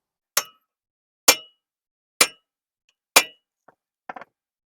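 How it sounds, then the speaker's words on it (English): Four loud, evenly spaced metallic strikes of a hammer on a manual impact screwdriver loosening a brake rotor screw on a Chevy Spark, about one per second, followed by a few faint small clinks. "we have this tool that we hit it, and it rotates as we hit, so it loosens"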